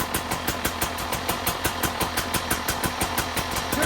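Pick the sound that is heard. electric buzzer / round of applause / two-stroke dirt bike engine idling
two-stroke dirt bike engine idling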